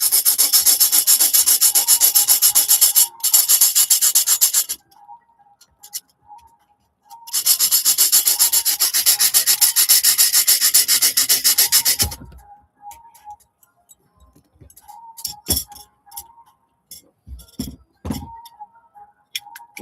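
A hand saw blade cuts through material in a long run of steady, rhythmic rasping strokes, up close and loud. After a pause a second long run follows, then scattered clicks and knocks.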